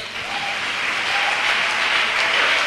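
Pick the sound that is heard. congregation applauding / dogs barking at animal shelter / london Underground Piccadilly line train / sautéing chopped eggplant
congregation applauding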